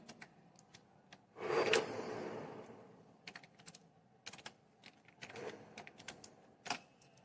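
Computer keyboard typing in bursts as HTML code is entered into Notepad, with scattered separate key clicks and one louder rustling stretch near the start, fairly close and quiet.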